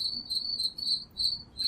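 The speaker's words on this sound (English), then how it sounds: "This is where we ask the producer to insert the sound of crickets." Crickets chirp in a steady, bright pulsing trill, repeated in even bursts at close, clear volume with nothing else beneath, inserted as a comic silence effect.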